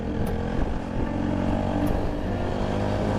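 A 4V motorcycle engine revving hard and pulling forward, a loud, continuous close-up drone with rising and shifting engine tones.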